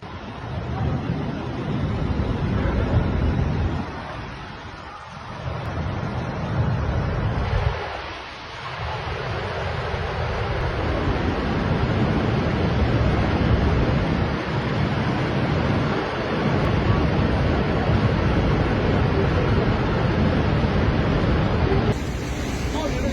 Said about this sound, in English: These massive swells can travel hundreds of kilometers across the ocean before crashing ashore